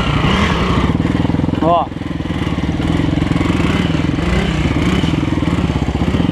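Motorcycle engine revving hard while the bike lifts into a wheelie on a street, a loud continuous buzzing engine with a brief dip and rise in pitch midway, under a voice talking over it.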